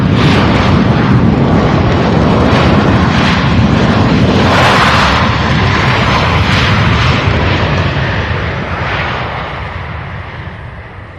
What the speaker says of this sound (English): Nice landing by Southwest there